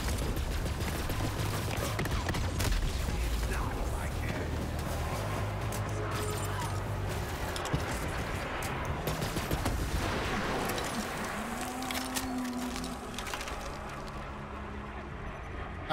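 Gunfire in the shooter game Borderlands 3, rapid bursts of automatic fire and scattered shots layered over chaotic explosions and combat noise, continuous throughout, with someone talking faintly beneath it.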